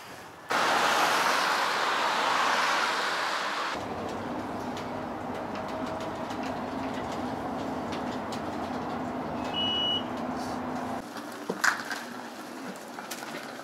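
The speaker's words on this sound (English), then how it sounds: "So this is Sargon's railway station." Ambience at a mountain railway station in the Swiss Alps, with a loud rumbling passage early on giving way to a steady hum, faint bird calls and scattered clanks, with no talking.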